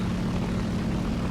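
Steady, droning propeller aircraft engine from War Thunder, the Spad fighter, a continuous dense roar with a low hum and no breaks, loud and close with no voices.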